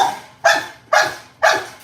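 Nine-week-old puppies bark three times in a steady rhythm, each sharp yap close and loud with a short trailing tail.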